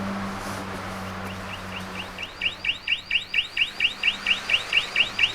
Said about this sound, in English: Right, turn that alarm off.